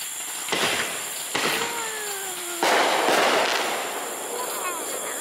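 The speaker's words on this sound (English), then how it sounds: "the fireworks look good" Fireworks burst outdoors at night in a few loud, sharp reports with whistling trails between them, followed by a lingering crackling rumble; no one speaks.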